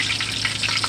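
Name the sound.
cornbread frying in hot grease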